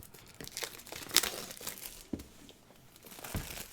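Cardboard and plastic packaging on a heavy starter set box being torn and crinkled open, a few sharp rips and crackles standing out against quiet handling noise close to the mic.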